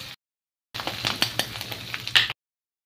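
Cumin and mustard seeds hit hot oil in a kadhai with a sudden burst of crackling sizzle and sharp popping ticks, steady and close for a couple of seconds before cutting off.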